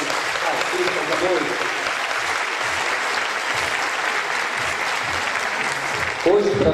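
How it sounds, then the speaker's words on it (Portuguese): An audience at a storytelling lecture event claps loudly and continuously for the artists, dense and sustained for several seconds, before a voice cuts in at the end. "uma grande salva de palmas aos nossos artistas"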